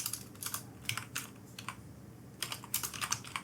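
Keys clatter on a computer keyboard as a short name is typed into a broadcasting program's setup field, with brief bursts of quick taps separated by pauses, close and fairly quiet.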